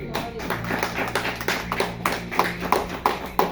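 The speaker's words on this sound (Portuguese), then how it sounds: "Palmas para Jesus." A church congregation claps hands in applause for Jesus, a steady run of sharp claps building toward the end, with voices mixed in underneath.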